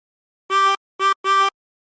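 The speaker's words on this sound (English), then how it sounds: "Blow into 7 3 times." Three blown notes on hole 7 of a chromatic harmonica, a reedy harmonic tone played short, short, then slightly longer, close and clean with silence between.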